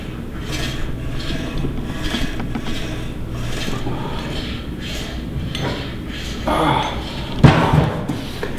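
Pulleys on a Powertec LeverGym cable machine run through a cable concentration curl, a soft rhythmic whirring and rubbing with faint mechanical ticks, close and moderately loud.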